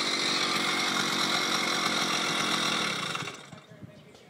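An 80cc engine on a motorized beach cruiser bicycle runs at a loud, steady buzzing drone up close, then is shut off and dies away over the last second.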